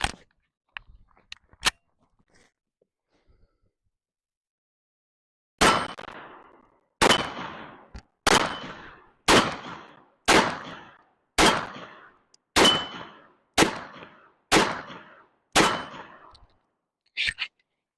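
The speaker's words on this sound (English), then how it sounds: "this is going to be the Micro Dagger C1, and these are the absolute first shots" A PSA Micro Dagger C1 pistol fires its first rounds, a few sharp taps and then about ten loud, close shots at a steady pace roughly a second apart, each ringing briefly into silence, with no talking.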